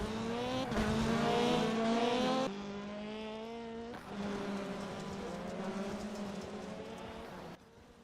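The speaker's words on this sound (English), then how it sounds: "And suddenly there was a car rolling." Race cars roar loudly and continuously through a crash in which cars make contact and one rolls over, engine noise shifting abruptly partway through with no voices.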